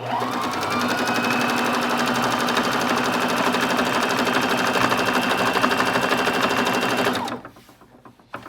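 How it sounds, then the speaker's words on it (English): A sewing machine runs a straight stitch in a steady, loud, continuous motor whir with rapid needle clatter for about seven seconds, then stops abruptly, leaving faint handling noise. "So this is a straight stitch. Just go ahead, drop your needle down, and then just press your foot on the pedal."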